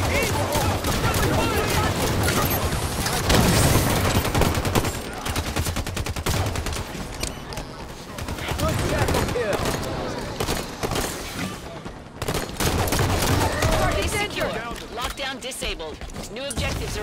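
Sustained gunfire from Halo 5: Guardians, with dense rapid bursts and automatic fire continuing nearly throughout, plus shattering impacts, mixed under frequent shouted combat voices.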